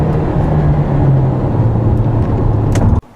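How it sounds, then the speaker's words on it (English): Steady, loud cabin drone of a 2016 Hyundai Sonata Hybrid pulling away from a stop toward 40 mph, a continuous low engine and road hum with a rising whine, cutting off abruptly at the end. "from start, this thing's got a lot of power. Hit 40 miles per hour in 5 seconds"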